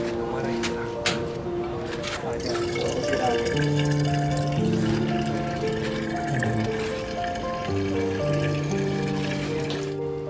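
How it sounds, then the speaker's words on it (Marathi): A coin-operated water ATM RO machine in a village runs water from its tap, a steady gush and fill under continuous machine hum, while people talk nearby. "10 रुपयाचा कॉईन टाकल्यानंतर या मशीनमधून 20 लिटर पाणी येणार आहे."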